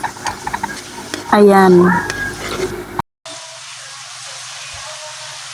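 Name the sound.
stirring pechay leaves into ground pork in frying pan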